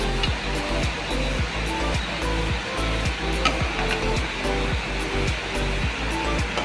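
Oil frying in a kadai in a Bengali home kitchen, a steady loud sizzle with crackling pops running continuously throughout, no voices.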